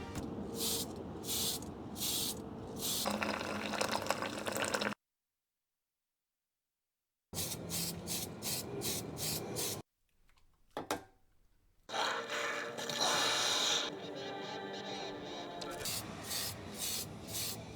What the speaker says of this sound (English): So right now we'll head out for step 2, which is spray painting.